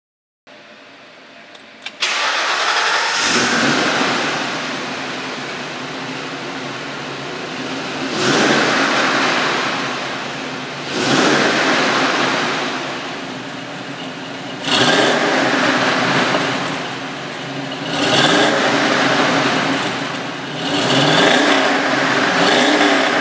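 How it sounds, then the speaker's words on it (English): A 1965 Ford Mustang with a 5.0 engine starts, then revs in about five rising and falling surges through its exhaust, loud and close, with no talk. "this one runs and drives like a late-model Mustang, with a very recognizable exhaust note"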